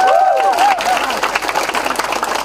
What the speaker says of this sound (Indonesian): Minta tepuk tangan.